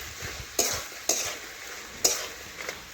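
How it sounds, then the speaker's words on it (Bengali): Paneer with mixed vegetables stirred in a hot pan: a continuous soft sizzle broken by three sharp scraping strokes of a spatula, close by and with no talking. "আবার একটু নাড়াচাড়া করে নিচ্ছি"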